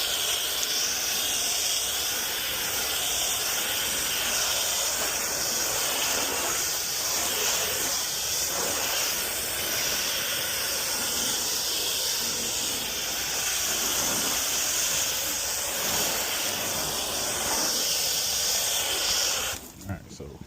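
A foam sprayer hisses steadily as it coats the passenger side of a car with thick foam, a loud continuous spray lasting about twenty seconds at close range before cutting off abruptly.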